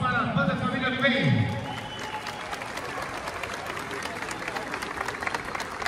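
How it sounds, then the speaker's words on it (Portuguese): A crowd at a marching band and fanfare contest in Santos applauds for a band, scattered claps and cheering under a busy outdoor din, with voices talking over it early on. "Uma salva de palmas para a Banda Família de Bem"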